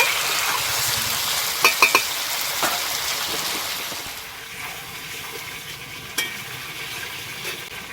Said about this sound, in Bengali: এইভাবে নেড়ে চেড়ে আমি ভালো করে কষে নেব মাংস।